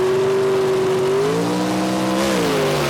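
A Southeast Gassers drag race car with a Staley race engine runs at Emerald Coast Dragway, a loud, steady engine roar with the pitch stepping through gear changes, heard close and continuous with no talk.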